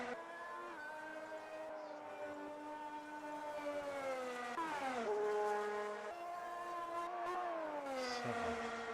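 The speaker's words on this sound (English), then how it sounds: "Apologies if there were no engine noises." Formula 1 race cars in a racing video game at the Red Bull Ring, engines droning with strong whining harmonics that climb and drop through gear changes, loud and steady with no talk.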